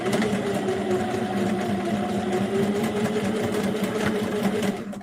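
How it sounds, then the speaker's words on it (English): A sewing machine runs continuously, stitching fabric for a zippered book cover with a steady, close mechanical whir and rapid needle rhythm. "I'm just going to keep my fabric aligned here as I sew"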